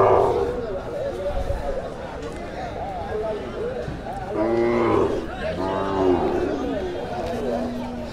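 Dairy cows and small to medium cattle at an outdoor village cattle market, with a couple of low, drawn-out moos rising over steady crowd chatter and nearby talk.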